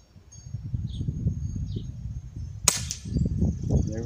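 A single sharp BB gun shot cracks out during outdoor long-range shooting, a brief loud snap over a steady background of wind and rustling.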